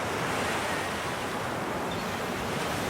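Waves wash steadily onto an oil-marked beach on the Gulf of Mexico shore. The surf roar is continuous and broadband and fills the whole stretch without a break, with wind noise mixed in and no voices.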